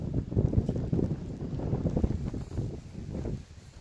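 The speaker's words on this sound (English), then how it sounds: "It's windy." Steady wind buffets the microphone with a low, rumbling roar that swells and eases throughout, with no one speaking.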